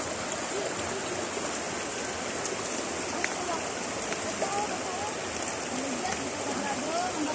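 Continuous rushing water flows in a river in Suarez where a family bathes, a steady close burble and splash, with occasional voices faintly underneath.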